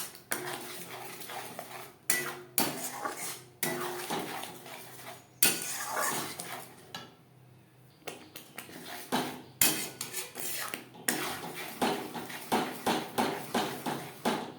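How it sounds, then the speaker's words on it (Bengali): A spoon scrapes and clanks in a pan as turmeric and fried cumin, coriander, black pepper, dried chilli and bay leaf are mixed into masala for butter chicken, giving repeated close metallic knocks and stirring bursts with brief pauses. "মশলার সাথে হলুদ ভাজা মশলা বেশ ভালো করে মিক্স করে দেবো"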